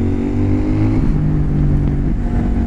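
A CF Moto 800 NK motorcycle engine pulls hard in third gear, a loud, steady mid-pitched drone rising continuously throughout, recorded up close with no talking.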